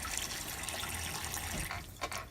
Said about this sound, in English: You want to use good water for your soup.